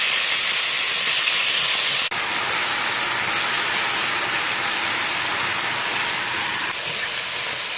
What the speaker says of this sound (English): Pour some oil into a frying pan and grill marinated chicken.